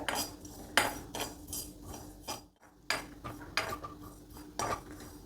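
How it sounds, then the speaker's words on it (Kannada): Cumin seeds dry-roasting in a pan without oil, stirred with a spoon, producing repeated close scraping and clinking strokes in an uneven rhythm with a brief pause midway. "ಮೊದಲಿಗೆ ಜೀರಿಗೆ 1 ಟೀ ಸ್ಪೂನಷ್ಟು ಜೀರಿಗೆನ ಹುರ್ಕೊಳ್ತಾ ಇದ್ದೀನಿ. ಡ್ರೈ ರೋಸ್ಟ್ ಮಾಡಬೇಕು, ಎಣ್ಣೆ ಏನು ಹಾಕಿ ಹುರಿಯೋದು ಬೇಕಿಲ್ಲ."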